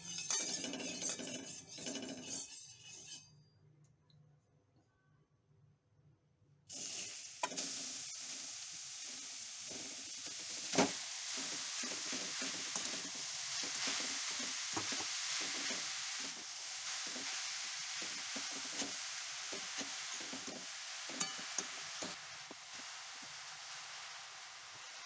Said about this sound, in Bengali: পাত্রে কিছুটা ঘি দিয়ে কোরানো গাজর দিয়ে দিতে হবে